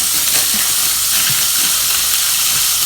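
Chopped vegetables, celery among them, softening gently in a pot as the base for minestrone, giving a steady, even hiss and soft sizzle with faint stirring knocks throughout.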